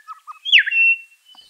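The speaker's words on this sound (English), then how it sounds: "We've also got the grey shrike-thrush," A grey shrike-thrush sings a clear, loud whistled phrase with a rising-falling swoop, preceded by a few short chirped notes and followed by a faint call, alone with no talk.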